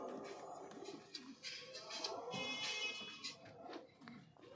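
Highflying pigeons coo softly in a loft, with repeated low, rolling cooing calls overlapping throughout, faint and close, with a hint of voice in the background.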